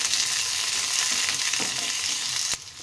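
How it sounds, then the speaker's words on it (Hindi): Capsicum, chili and ginger lightly frying in a hot kadai give a steady, close hissing sizzle with faint stirring, which cuts off abruptly near the end. "एबे हमें हल्का फ्राई कर देबा।"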